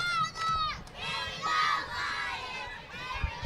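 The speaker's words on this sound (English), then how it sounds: "I hear her yelling" A cheerleader from a youth competition cheer squad yells from a float in a Halloween street parade, with high, sustained shouts and crowd noise close by in the open air.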